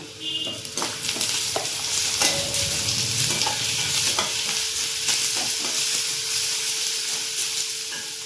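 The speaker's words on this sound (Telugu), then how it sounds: "పచ్చిమిరపకాయలు, అల్లం తెల్లగడ్డ పేస్ట్, కరివేపాకు వేసుకొని ఫ్రై చేసుకుందాం." Green chillies, ginger-garlic paste and curry leaves sizzle in hot oil for a chicken curry, a loud, continuous fry close by, punctuated by repeated stirring scrapes.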